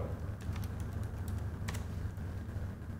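Quiet, steady typing on a computer keyboard as a slide title is entered, with rapid light key clicks running continuously over a faint background hiss.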